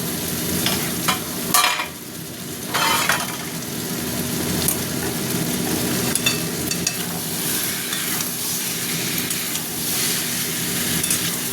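Cauliflower frying in oil with cooked-down spice masala for an egg and cauliflower curry: a steady, close sizzle with scraping stirring strokes and a few louder spatters near the start.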